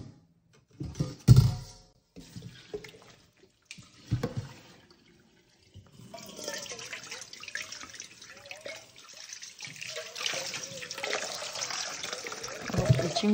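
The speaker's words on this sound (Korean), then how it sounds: "물에다가 한번 헹궈 보도록 할게요." Green laver seaweed is rinsed in water, with a few splashes and handling knocks first, then a continuous running, swishing wash of water that stays close and builds toward the end.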